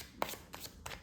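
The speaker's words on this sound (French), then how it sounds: "il faut que je remélange le paquet" A deck of recruit cards from the board game Sorcellerie gets remixed by hand, three quick riffling bursts of card shuffling, close and fairly quiet, with no talking.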